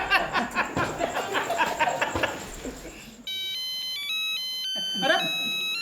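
A phone rings as a repeating electronic ringtone melody on a comedy show set in a housing society, following chatter and laughter and ending under a brief voice.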